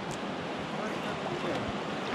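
Whitewater rapids on the Petawawa River at the Big Thompson run, a steady broadband rush of churning water close by, with a few faint splashes and knocks on top.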